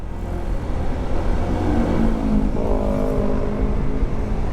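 A Honda ADV 160 scooter with a freshly cleaned CVT accelerates hard, its engine drone rising in pitch over a few seconds, close and loud, with wind and road noise mixed in.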